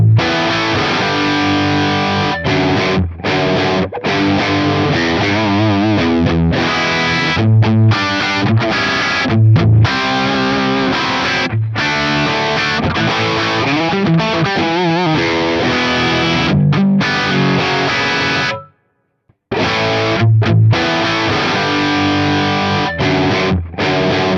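Distorted electric guitar played through a Fractal FM9 modelling a Mark V amp, loud chugging riffs with sharp stops and a brief full silence near the end, no voices.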